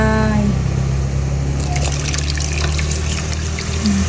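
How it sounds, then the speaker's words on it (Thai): Thin coconut milk is poured into a pot of sweetened, dissolved sugar syrup for a banana-in-coconut-milk dessert; a soft liquid trickle and splash begin partway in over a constant low hum. "ใส่น้ำหางกะทิของเราลงไป"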